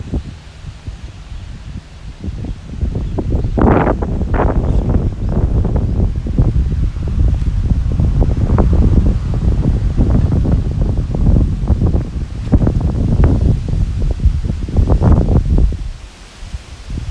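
Strong wind gusting through Tokyo, Japan, a loud continuous roar buffeting the microphone with rustling, swelling in surges and dropping away at the end.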